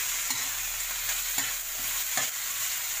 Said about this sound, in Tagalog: Gisa-gisa lang siya.